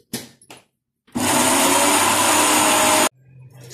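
A mixer grinder grinds goda masala spices with rock salt. A few short rattling pulses come first, then a steady, loud, whirring grind of about two seconds that stops abruptly, leaving a low hum.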